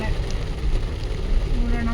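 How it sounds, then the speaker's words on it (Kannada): Heavy monsoon rain drumming on a car during a drive toward Charmadi Ghat, a dense, steady wash of noise with road rumble underneath, close and continuous. "ಜೋರಾಗಿ ಬರ್ತಾ ಇದೆ ಮಳೆ"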